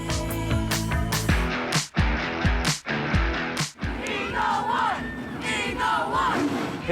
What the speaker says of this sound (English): Hickman County unveils their cars, and everybody starts cheering.